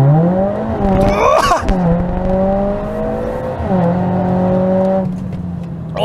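A Mercedes-AMG A45 S launches hard from a standstill, its engine revving high and climbing through quick upshifts with brief dips between gears, loud and close from inside the car.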